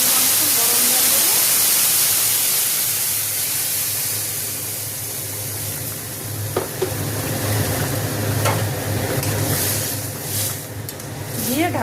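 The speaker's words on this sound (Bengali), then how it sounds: "এবার গরম জল দেবো" Hot water poured into a hot pan of dalia khichuri with spices, giving a steady loud sizzle and hiss with stirring scrapes throughout, a few sharper spatters near the end.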